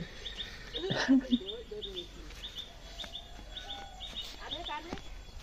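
Small birds chirp and call repeatedly around a rooftop garden, bright short tweets scattered at moderate distance, with a person talking through much of it.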